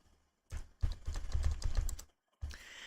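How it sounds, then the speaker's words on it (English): Quick bursts of typing on a computer keyboard, with dense clicking keystrokes in two runs separated by a short pause, close and fairly loud with no talking. "I'm just typing in Malaysian childhood snacks."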